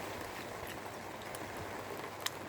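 Rain falls steadily outdoors in a back garden, a faint, even patter with a few sharper drops and no talk.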